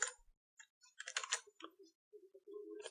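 Computer keyboard keys clicked in quick bursts for a copy shortcut, close and crisp, with short clusters of taps separated by pauses and a faint hum near the end.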